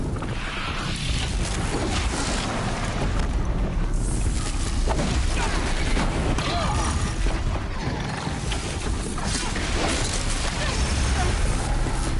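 Dense, continuous rumbling blasts and crashing impacts from explosions in the action game Horizon Zero Dawn, loud and sustained throughout with mechanical clanks layered in.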